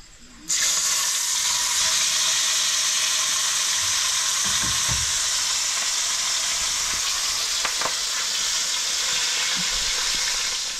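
Fish frying in a pan, a loud, steady sizzle that starts abruptly and holds, close up, with occasional light clinks and stirring, no talk.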